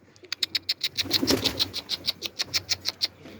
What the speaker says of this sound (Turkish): Bak kuş tavana inmiş.